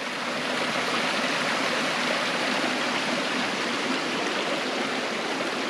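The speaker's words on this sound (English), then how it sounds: "make this creek crossing real quick" A creek flows along a wilderness trail in the Cranberry Wilderness, giving a steady, close rushing wash of water that holds even and unbroken throughout, with no voices.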